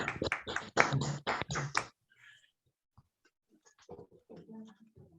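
A few people clap close by for about two seconds, a sharp, uneven burst that stops abruptly, followed by quiet, soft talk.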